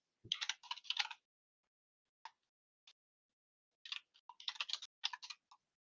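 An email address is typed on a computer keyboard in quick clusters of crisp, close key taps, separated by a few isolated clicks and near-silent pauses.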